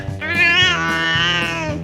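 A loud, whiny cat meow, drawn out and wavering for over a second with a strained, caterwauling edge, heard alone and up close.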